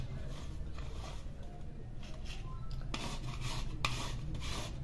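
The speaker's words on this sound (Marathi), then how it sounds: "आपल्याला अर्धी वाटी आता गुळ किसून घ्यायचा आहे." Chemical-free jaggery grated for a wheat-flour gul papdi, giving a steady, close rasping and rubbing scrape that carries on throughout without pause, with a few light metallic knocks and a slightly brighter stretch of scraping toward the end.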